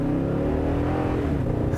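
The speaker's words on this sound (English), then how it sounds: "immediately I'm noticing that burly V8" A deep 5-liter V8 engine in a 2018 Toyota Tundra 1794 Edition pickup rumbles and revs continuously, a loud, burly growl with no voices.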